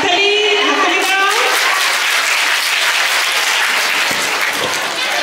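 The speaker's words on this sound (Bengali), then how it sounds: "হাততালি হাততালি দাও।" An audience at a girls' school annual prize giving breaks into loud, sustained applause, dense clapping filling the room while a voice speaks briefly over it at the start.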